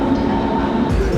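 A local S-Bahn train in Berlin rumbles loudly nearby, with rail noise and a brief rising squeal near the end.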